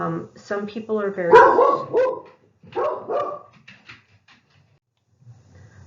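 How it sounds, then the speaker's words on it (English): A small dog barks repeatedly in quick yapping bursts, fairly close, during a spoken lecture; a voice talks over and between the barks. "Sorry about that little dog barking interlude."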